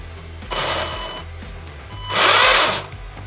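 Electric motor of an RC car spinning the wheels, two whirring bursts that rise and fall, the second louder and longer, close and with no voices.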